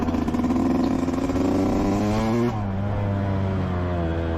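A motocross bike rolling slowly around a hilly dirt track, its engine droning steadily and close with a slight pitch shift midway as the throttle eases off.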